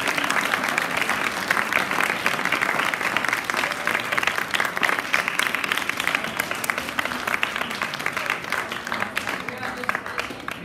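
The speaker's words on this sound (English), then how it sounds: "I think we need to give Ashim a really nice round of applause" A class gives a warm round of applause for Ashim, dense, continuous clapping from many hands at steady loudness throughout, with a faint murmur of voices underneath.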